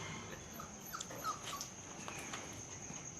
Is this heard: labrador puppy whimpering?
yes